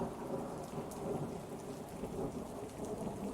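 Steady rain with low rolling thunder sets a storm mood in a tabletop fantasy game scene, the downpour a dense, even hiss, the rumble a continuous low murmur beneath it, with no voices.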